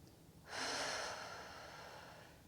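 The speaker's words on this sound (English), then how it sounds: "Deep breath in" A person draws one deep, slow breath in during a bodyweight calisthenics workout. It is a close, breathy inhale that swells quickly, then fades gradually over about two seconds.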